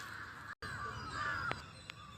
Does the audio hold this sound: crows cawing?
yes